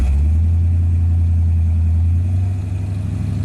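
A 1939 custom Ford engine runs close by with a deep, loud, steady rumble that eases slightly toward the end, no talking.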